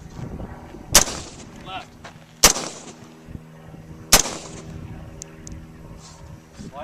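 Three loud, sharp rifle shots at an outdoor shooting range, spaced about one and a half seconds apart, each with a short echoing tail, while a person speaks briefly between them.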